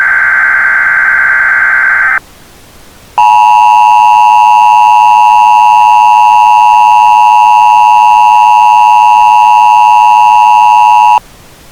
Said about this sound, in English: receiving a priority activation of the EAS at the request of the National Weather Service in Springfield